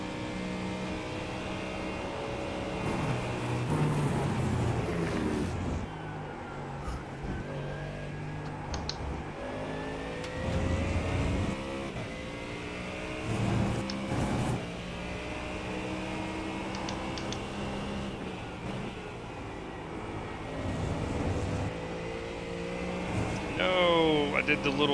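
A race car engine at Le Mans in a sim racing game revs up and down with rising and falling whines and gear changes, continuous and prominent while someone talks over it.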